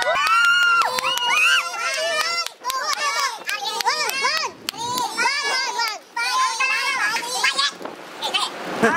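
A crowd of excited voices shouts and cheers together at a gay bingo game event, loud overlapping yells and calls rising in bursts with brief lulls, close and lively.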